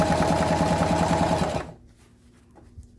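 Sewing machine back stitching on a simple handbag, one brisk burst of rapid, rhythmic needle clatter that stops abruptly after about a second and a half, leaving near silence.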